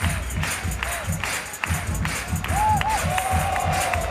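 Spectators at an outdoor street football freestyle world final in Lecce, Italy, keep up a continuous cheering roar, with some whistles and a voice talking above it.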